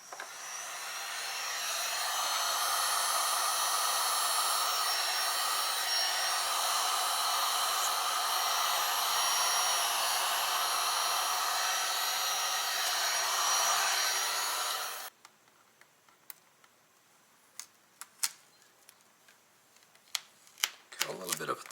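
A heat gun blows hot air onto vinyl wrap on a BRP Oxygen helmet, a loud steady hiss lasting about fifteen seconds, then cutting off abruptly to quiet handling clicks and taps.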